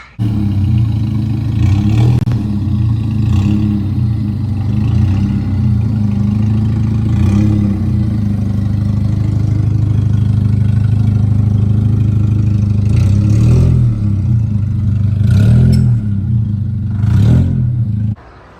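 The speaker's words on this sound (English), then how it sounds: "Got the homie Hector right here with his Del Sol. Just pulled up." A Honda Del Sol engine rumbles steadily nearby for a long stretch as the car pulls up, idling low with a few brief revs and clattering bursts, then cuts off at the end.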